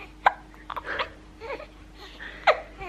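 A baby hiccups, with two sharp, distinct hiccups at the start and end and soft little vocal noises and fussing in between. The sounds are close and clear.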